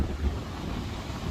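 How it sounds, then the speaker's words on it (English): Gusty wind buffets the microphone on Whitby pier by the sea, a loud continuous low roar with no voices. "Sorry about the wind."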